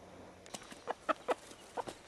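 A handful of short, sharp clucks from a bantam cockerel and hens, spaced irregularly and close by, over a faint background hiss.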